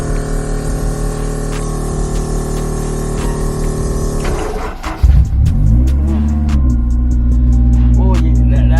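A Honda S2000 engine struggles to start under a steady background hum, then catches about halfway through and settles into a loud, rough idle that continues to the end.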